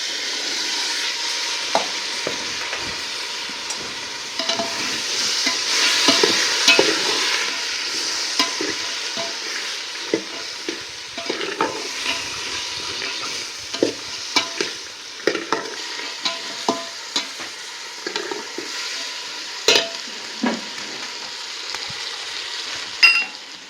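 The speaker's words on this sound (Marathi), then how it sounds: "आता घ्यावडा चांगला परतून घेतला" Ghevda beans are stirred and sautéed in a pan, a steady soft sizzle broken by frequent scraping and tapping strokes of a spoon, close and without talking.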